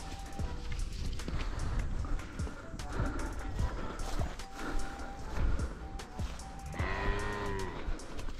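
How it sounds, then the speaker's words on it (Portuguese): A mare's hooves clip-clop on a farm alongside a newborn calf, an uneven scatter of thuds under cattle mooing and some voices. "Segura a égua, Pim."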